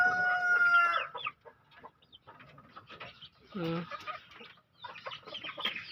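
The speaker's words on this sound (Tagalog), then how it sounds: "Ang mga manok na to." Ayam ketawa chickens in a backyard cluck in short bursts, with a long crow near the start and more calls scattered throughout, fairly close, mixed with faint background voices.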